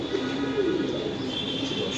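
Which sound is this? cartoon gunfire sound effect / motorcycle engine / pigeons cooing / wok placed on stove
pigeons cooing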